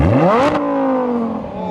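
A Lamborghini Huracan V10 revs hard, its pitch climbing steeply, then holds a loud, screaming, harmonic-rich tone close by that slowly settles.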